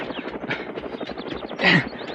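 Helicopter rotor noise in an Ilocano drama: a rapid, steady chopping pulse close and loud throughout, with a brief swelling whoosh near the end.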